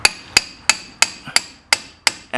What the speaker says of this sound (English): Then you take a hammer, a large hammer.